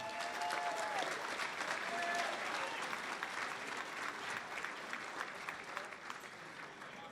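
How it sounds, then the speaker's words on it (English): Sustained audience applause fills a hall of fame ceremony for county coaches, a dense, steady clapping from a large crowd that holds level throughout with no talk over it. "Ladies and gentlemen, a round of applause for Mr. John Kennedy."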